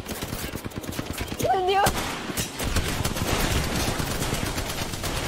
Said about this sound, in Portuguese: Tem tiros vindo de lá, ó.